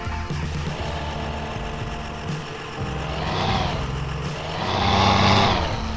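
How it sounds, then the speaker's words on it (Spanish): A Chevrolet Suburban 4x4 engine in the MudRunner off-road game, a low rumbling idle that swells louder twice as it revs, steady and close with no voices. "vamos a comenzar con esto encendiendo el motor de esta Chevy Suburban"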